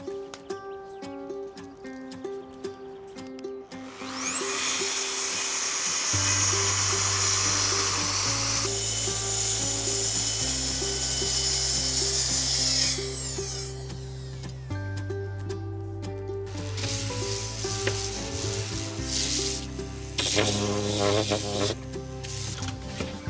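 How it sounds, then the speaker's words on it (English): Track saw slicing plywood into pieces: the motor spins up to a loud high whine, holds through a long cut, then winds down, with tool clatter and a steady hum underneath at close range. "I've got my track saw here. This is going to make light work of cutting this plywood into the right sizes"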